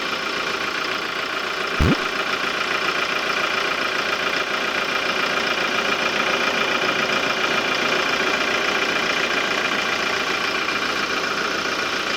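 Hyundai Porter 2 Super Cab truck with its engine bay open, the engine idling in a steady, even hum with a brief sharp tone near the start, no voices.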